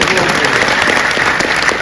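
An audience at a Hindi comedy poetry gathering claps loudly and steadily, a dense burst of applause that holds at full strength for the whole short stretch.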